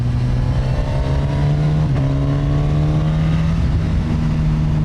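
A Suzuki GSX-S1000 naked motorcycle's engine pulls steadily under acceleration, a loud continuous drone with a smoothly climbing pitch and a brief shift-like dip midway, heard close with no talking.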